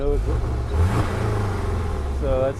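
A 2018 Porsche 718 GTS revs with its sport exhaust switched off, a restrained quiet-mode engine note that rises and falls over a steady idle, with a voice talking over it.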